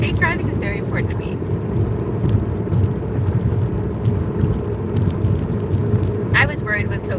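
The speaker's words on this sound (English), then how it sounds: "So I'm driving" Steady, loud interior road noise from a moving car, a constant low rumble and hum with a few faint chirps near the start and end. A voice is faintly present underneath.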